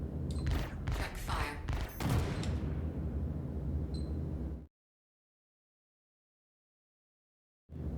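Rapid bursts of Omnisky laser cannon fire from a Hornet F7A Mk 2 in Star Citizen crackle in a tight volley for several seconds, then stop dead into silence.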